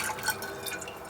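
A little mineral water poured into a small saucepan in a camping-car, a soft steady trickle and drip lasting about a second, close and quiet.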